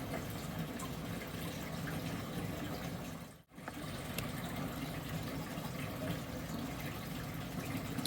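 A steady watery rush of a goldfish tank pump sucking water out of a hose runs throughout and breaks off for a moment near the middle.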